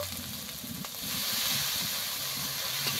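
Spice paste for an egg curry fries in oil with a soft crackle, then swells into a louder, steady hiss and sizzle as a little water is added to the pan.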